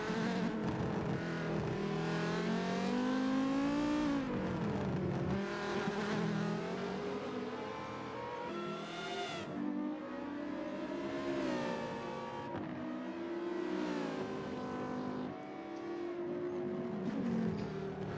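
GTP prototype race cars, including an orange Cosworth-powered car, pass through pit lane at a Tora endurance race on the Indianapolis road circuit, a continuous droning engine whine that rises and falls in repeated sweeps, with no talking.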